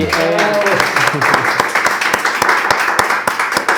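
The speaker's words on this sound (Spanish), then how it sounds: "Fuerte aplauso por ese brillo." A studio audience bursts into applause, a short run of sharp, close claps following a voice at the start.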